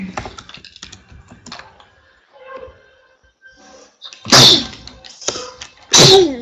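Two loud, sharp sneezes burst out nearby a couple of seconds apart, after a stretch of soft clicking and quiet background sounds.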